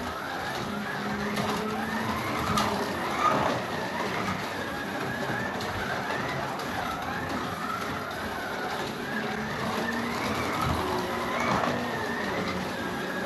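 A modded Mustang GT3 slot car fitted with silicone tires and a rear axle kit runs laps around a slot track, giving a steady, continuous electric motor whir with rising and falling passes at moderate level.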